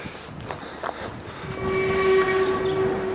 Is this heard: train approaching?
yes